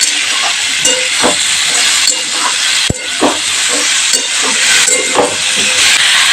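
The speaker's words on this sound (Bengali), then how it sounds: "এবার মিষ্টি কুমড়োটাকে আর বেগুনটাকে একটু ভালো করে ভেজে নেব" Pumpkin and eggplant frying in oil in a pan, a loud hissing sizzle with repeated stirring scrapes and one sharp knock partway through, close up and without talk.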